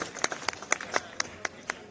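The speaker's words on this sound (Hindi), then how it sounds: "तो जोरदार तालियां हमारे मोदी जी के लिए" An audience at a Women's Day event honouring women sanitation workers claps for Modi: a sparse, fairly faint patter of about eight distinct hand claps at a steady, quick rhythm.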